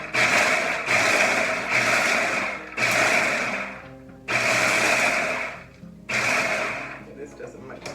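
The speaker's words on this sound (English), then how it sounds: "I'm going to process this just for a couple seconds. Just pulsing it just to chop it up." A food processor pulses granola ingredients in five or six loud, short bursts of whirring motor and chopping, each lasting about a second with brief pauses between, close by and without talk.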